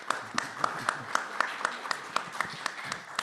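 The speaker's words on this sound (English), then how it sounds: "I do feel that those are warranted claps for sure" A small audience at a music education and AI event claps in a steady, fairly slow rhythm, each sharp clap distinct and moderately faint, with faint talk underneath.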